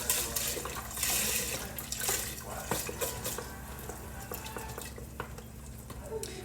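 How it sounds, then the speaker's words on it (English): Chicken broth pours and splashes into a pot in uneven gushes, with small knocks and clinks around it. "Pour your chicken broth in here"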